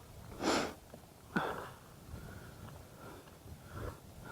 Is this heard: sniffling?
yes